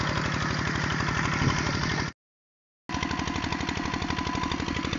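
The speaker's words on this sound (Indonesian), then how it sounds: "Kali ini kita ketemu diesel Kubota." Kubota RD 55 diesel engine running an NS 80 water pump to irrigate sugarcane fields, chugging loud and steady with a rapid rhythmic knock, cutting out briefly for under a second before resuming at the same pace; no talk.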